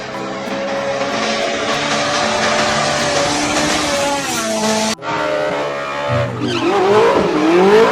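Race car engine effects for a toy car scene, loud and continuous with revving pitch sweeps, skidding tire squeal and a sharp cut midway into another swelling engine roar.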